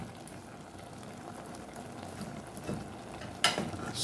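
A pot of paksiw bubbles at a boil, a faint, continuous simmering burble with a brief clatter near the end, no voices.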